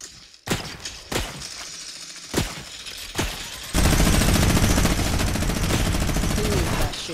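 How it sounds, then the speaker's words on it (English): Rapid gunfire in the video game Fortnite during a creative-mode battle: a few sharp separate shots, then a dense, loud sustained burst of automatic fire that continues to the end. "Who is that shooting?"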